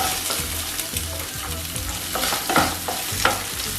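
Curry leaves and chopped onion sizzle in a hot pan with steady frying hiss and repeated scraping stirs of a utensil, close up, with no talking.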